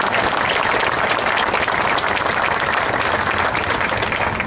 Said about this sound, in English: I think we should all give Joe Jack a big applause for all he's done to get us all together.